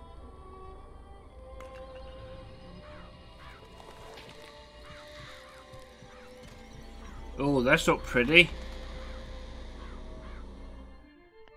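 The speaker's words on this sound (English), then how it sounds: "Murder of crows." Crows from the Murder of Crows vigor in BioShock Infinite caw in a loud burst of harsh, overlapping calls midway through, set against a quieter game soundscape, with someone talking briefly.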